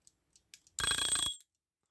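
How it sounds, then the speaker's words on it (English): A 1948 Smiths alarm clock bursts into a loud, piercing bell ring lasting about half a second, preceded by a few faint mechanical clicks and followed by silence. "If I just trigger the alarm, we should get a nice ring."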